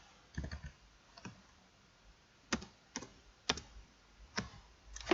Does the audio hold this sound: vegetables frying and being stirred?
no